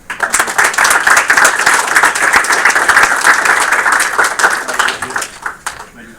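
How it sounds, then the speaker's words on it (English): A game studio audience at a build review breaks into sustained, loud applause lasting several seconds, dense overlapping claps with a few cheers, tapering off at the end. "let's give him a round of applause"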